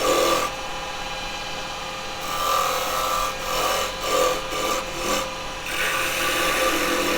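A small live-edge ash bowl is being turned on a lathe with a 1 inch spowl gouge, giving a steady raspy scraping of tool on wood with brief pauses in the cut.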